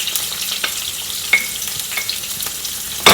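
Onions, curry leaves and green chilies frying in a pan for a potato fry, a steady close sizzle with a few sharper crackles and pops scattered through it, with no voices.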